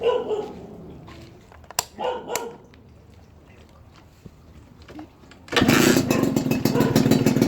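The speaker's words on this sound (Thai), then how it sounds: "ทีเดียวฟังเสียงเครื่องนะครับ" Faint dog barks and scattered background noise give way to a motorcycle engine suddenly starting and running loud and steady, after a new chain and sprocket have been fitted.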